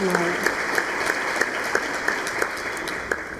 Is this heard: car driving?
no